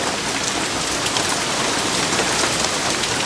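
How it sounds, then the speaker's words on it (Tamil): Heavy rain pours down steadily in a dense, even hiss of countless drops hitting surfaces, loud and close, with no voices over it. "இந்த மழை வேற எப்போ விடுன்னு தெரியலையே."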